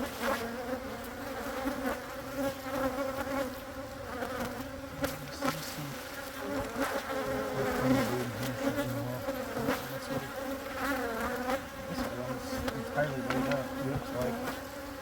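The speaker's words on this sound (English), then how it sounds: "These two bees are fighting each other on the veil." Honeybees buzzing steadily around their hives during a spring hive inspection, a dense and continuous drone close to the microphone with no talking.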